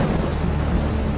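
Heavy rain with thunder in a cartoon, a loud dense wash of rain over a deep continuous rumble, close and alone without speech.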